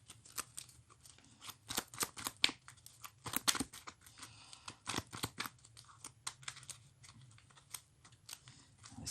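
Board game pieces being shuffled during a tabletop wargame scenario, close, quiet irregular clicking and rattling bursts with no talk.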